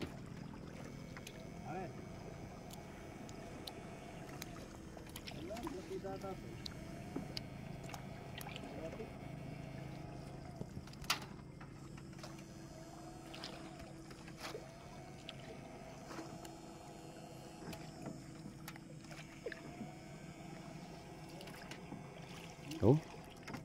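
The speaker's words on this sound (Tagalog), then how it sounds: "sakay sa bangka" A small outrigger boat moves over water, with a low engine drone, splashing and wind, and faint voices in the background.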